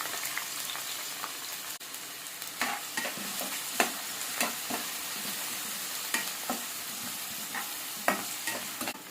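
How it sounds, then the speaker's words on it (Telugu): Onion pieces fry in hot oil in a kadai with a continuous crackling sizzle, broken by repeated sharp stirring scrapes and clicks close up, and no voices. "ఆయిల్ వేడెక్కిన తర్వాత అందులో ఉల్లిపాయ ముక్కల్ని వేసుకోవాలి"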